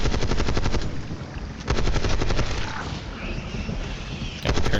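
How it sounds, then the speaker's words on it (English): Rapid automatic gunfire from a Call of Duty Zombies match on the Terminus map, aimed at spores. It comes as loud, sustained rattling bursts with a short pause in between and a windy rumble underneath. "So we're going to need to shoot these."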